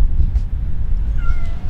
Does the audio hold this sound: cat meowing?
yes